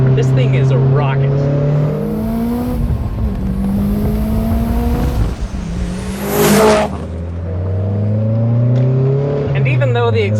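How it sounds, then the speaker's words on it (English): A built 2-liter turbocharged Mitsubishi Evo engine revs loudly through a loud exhaust, its tone climbing and falling, with a sharp hissing whoosh like a blow-off valve release near the middle, and a voice talks over parts of it. "I can still hear the intense whoosh of the turbo, followed by that glorious blow-off valve noise."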